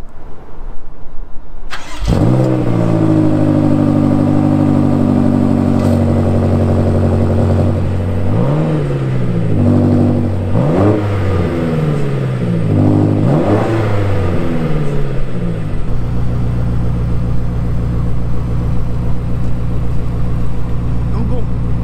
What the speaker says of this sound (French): allez, maintenant, je vais te le démarrer un peu pour que tu entendes le son.